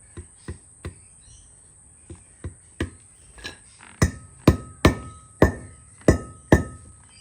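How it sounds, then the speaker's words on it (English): Rubber hammer tapping a wheel bearing seal into place on a Mazda BT-50 hub, a series of about thirteen sharp knocks, sparse at first then coming faster and louder toward the end, with short ringing decays. "Rubber hammer, pop our seal in."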